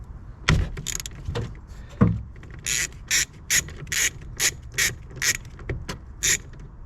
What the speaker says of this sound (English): We're going to go ahead and use our socket and we'll get that out.